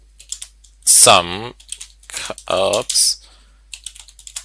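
Light clicks of typing on a computer keyboard tap along quietly at close range while someone talks over them.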